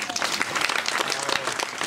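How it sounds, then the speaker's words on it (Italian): An audience breaks into brisk, dense applause, steady clapping filling the whole moment with little else heard. "Un bel applauso."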